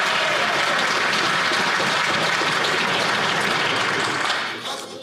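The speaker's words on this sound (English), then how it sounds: "the Prime Minister got so much applause that I'm going to let him start over" Loud, sustained applause fills the House of Commons for the Prime Minister during Question Period, a dense wash of clapping that fades off toward the end.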